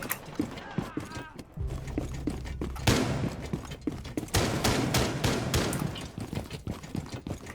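Fuze's cluster charge activates in a video game as a rapid string of small sharp detonations and clattering mechanical pops, fairly faint and irregular, with a short voice line and room noise in the game mix.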